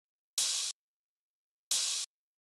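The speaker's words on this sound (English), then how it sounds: "Next, we just have an open hat" Two identical open hi-hat hits from a drum sample, each a bright sizzling cymbal wash lasting about a third of a second and cut off abruptly, separated by silence.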